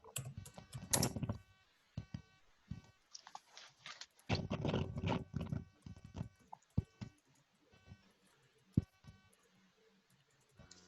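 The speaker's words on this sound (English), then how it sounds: "For BrainPop, let me type that into the chat as well." Typing on a computer keyboard during an online workshop, with irregular clusters of close keystrokes and clicks separated by short pauses, fairly quiet with no talk.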